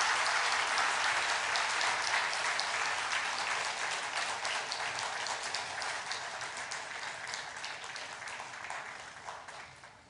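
A church congregation applauds to welcome a retired pastor before a Sunday sermon, with sustained, dense clapping that fills the room and slowly fades over about ten seconds, no voices over it.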